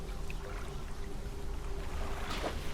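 Wind and waves at sea in the fishing game Dredge: a faint, steady wash of water and wind, with a soft splashing surge near the end.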